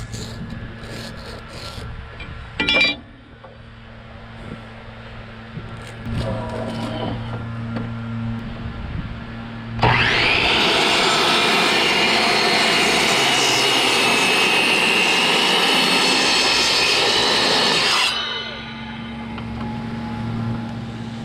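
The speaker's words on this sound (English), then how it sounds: "So let's see how this saw does on 2-inch rough sawn oak planks." A Craftsman miter saw cuts through a 2-inch rough sawn oak plank, a loud steady bright whine lasting about eight seconds before winding down, preceded by quieter handling sounds and a low motor hum.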